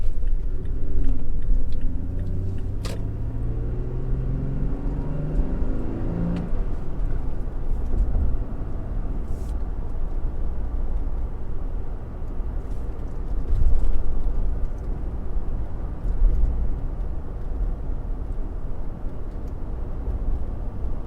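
A 3rd gen Toyota Tacoma with a six-speed manual on a bumpy road, heard from inside the cab as a steady low engine and road rumble with jolts and small rattles. Early on, the engine pitch rises through a gear.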